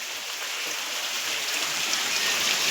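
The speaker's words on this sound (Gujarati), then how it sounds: "ઝરમર વરસાદ આવી રહ્યો છે" Light drizzle falls around a rooftop, a soft, even rain hiss with fine patter that holds steady throughout the short stretch.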